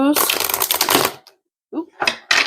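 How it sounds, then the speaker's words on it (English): A deck of cards is shuffled in two quick riffling bursts, crisp and close, separated by a short silent pause. "We'll give this a few more shuffles."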